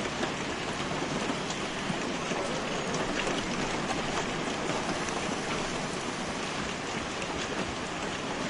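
Rain in the video game The Glass Staircase, a steady dense patter of drops hitting surfaces that fills the scene evenly and continuously with no voices.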